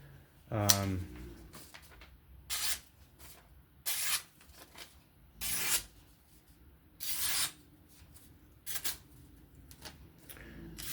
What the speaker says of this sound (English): that's it for today on that sharpening for the Kizer October. Very good knife with the work sharp